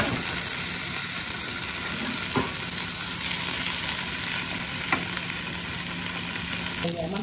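Pork sizzles steadily in a pan with no oil, a dense continuous frying hiss with a few brief clinks of a utensil against the pan.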